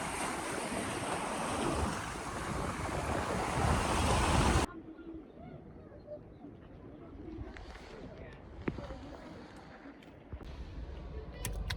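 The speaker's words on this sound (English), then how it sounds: "but bloody hell, the waves come close." Sea waves surging against the rocky coast of Donegal, Ireland, a loud broadband wash with wind buffeting the microphone, then dropping to a quieter steady surf with scattered faint clicks and knocks.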